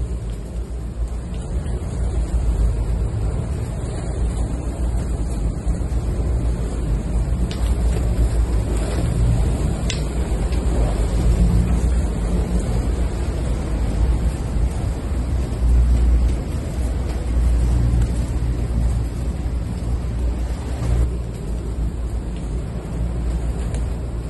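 Confused, choppy seas during a gale in the Sea of Japan wash and rumble continuously around the FPB 70-01 powerboat, with wind buffeting and a steady low engine drone beneath, no voices.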